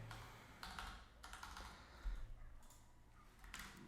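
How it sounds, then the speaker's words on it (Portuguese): A postal code is typed on a computer keyboard, a quiet run of separate key clicks in small bursts with short pauses, close and alone. "E vou digitar aqui um CEP."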